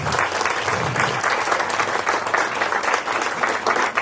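A crowd claps steadily at an elementary school ribbon-cutting ceremony, with dense, sustained applause that stays loud and even throughout, without any talking over it.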